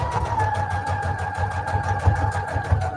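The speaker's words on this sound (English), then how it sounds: "I'm just sewing a whole straight line" A sewing machine stitching lace onto an index card in a straight line, a steady mechanical whir with a fast repeating stitch rhythm, close and continuous, with no talk.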